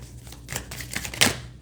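Tarot cards being shuffled by hand, a quick run of soft riffling flutters with a sharper burst near the end, close and fairly quiet with no talking.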